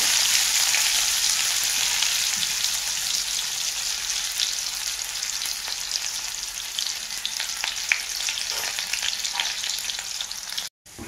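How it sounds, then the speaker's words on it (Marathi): Chopped onion frying in hot oil in a wok for tempering, after mustard seeds and cumin, a loud, steady close sizzle with faint stirring ticks throughout and a short break near the end, no voices. "आणि हा फोडणीसाठी कांदा कापला होता ते टाकून घेते।"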